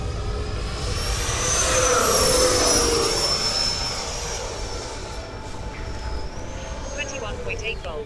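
An FMS Super Scorpion 90mm electric ducted-fan model jet roars overhead with a rising and falling whine, loudest in the middle before fading into a steady distant hum.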